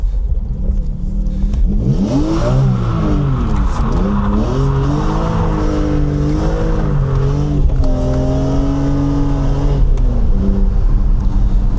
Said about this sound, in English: why not do a few U-turns just for fun